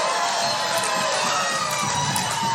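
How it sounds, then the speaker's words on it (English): An audience cheers and whoops at a live confession-show event, a continuous mid-distance crowd roar with scattered shouts for a couple of seconds. "Applause for that."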